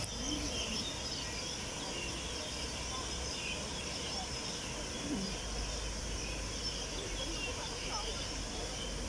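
Pigeons coo softly amid a steady broadband background hiss, with faint bird calls scattered throughout and no clear talking.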